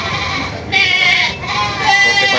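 Large goats bleat at a livestock market, two loud drawn-out cries close by over a constant din of crowd noise.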